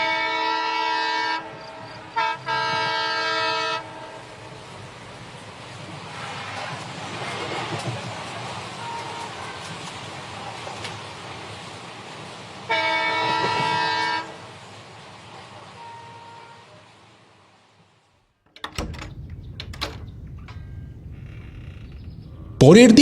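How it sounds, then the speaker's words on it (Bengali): A train sounds its horn in repeated toots, then rumbles as it pulls away from a rural Bengal station on the Burdwan local line. The horn blasts come in loud bursts over a steady, moderately loud rolling clatter, followed by a sudden, louder close noise near the end. "হুইসেল বাজিয়ে ট্রেন ছেড়ে দিল।"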